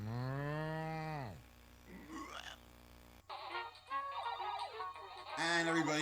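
An animated cartoon cow lets out one long, loud moo that slides downward. It is followed by quieter squeaks and a busy mix of cartoon sound effects and music.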